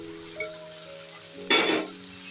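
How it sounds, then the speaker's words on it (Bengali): Pre-fried chicken and potatoes hit a hot pan for a chicken curry, bursting into a loud sizzle midway that fades gradually, over a faint background tone. "এখন এই ভেজে রাখা মুরগির মাংসের আলুগুলো আমি দিয়ে দিচ্ছি।"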